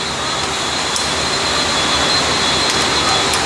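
An Audi S2 fitted with a 3.1 litre BMW M50 straight-six and an 85mm turbo, making about 1,000 horsepower, runs with a loud, steady, unbroken roar close by.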